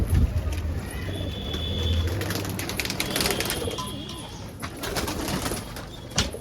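Pigeons kept in pairs coo in low, throaty murmurs close by, with chatter and background bustle around them.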